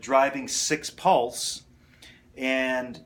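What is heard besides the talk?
No distinct noise like a dog, phone or traffic.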